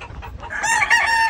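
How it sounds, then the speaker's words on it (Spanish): Several roosters being boxed up on a farm crow and cluck close by, a short burst of hoarse, rising calls layered over softer clucks, loud and without talk. "vamos a llevar 5 gallos"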